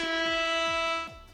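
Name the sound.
air horn blast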